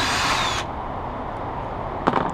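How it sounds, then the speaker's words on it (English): A power tool spins off the 12mm nuts on a Scion FR-S strut top mount during a coilover install, a loud high whine that cuts off abruptly, followed by a brief metallic clatter. "the stock struts are only being held up by 12mm nuts, so let's go ahead and remove those"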